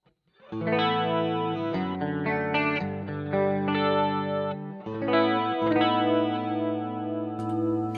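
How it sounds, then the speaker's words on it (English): A clean electric guitar with a shimmering chorus effect plays sustained chords and notes, smooth and continuous, with no voices. "I've got the same thing, but add chorus to it"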